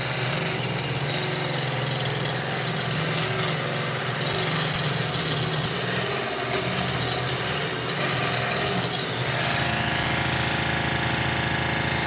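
A power tool runs loudly and continuously as it smooths out a divot in a wooden surface, giving a harsh buzzing grind that shifts in tone near the end.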